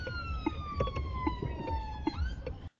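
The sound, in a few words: ambulance siren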